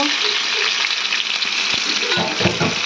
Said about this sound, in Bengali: দিয়ে আমগুলো দিয়ে দিয়েছি, দিয়ে ভালো করে নাড়াচাড়া দিচ্ছি।